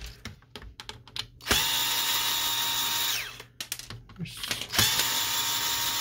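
A power screwdriver backs out the motor screws on a Samsung CLP-365W printer during disassembly, with two sustained whirring bursts between clicks, taps and handling noises, close up.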